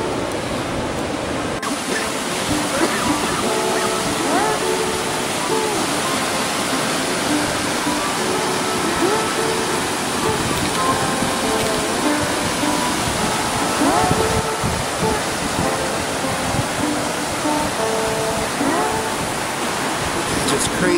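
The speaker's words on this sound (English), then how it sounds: "you can totally hear the sound of the river down here" A river rushes below a very full dam, a dense, steady roar of water that is loud and unbroken for the whole stretch.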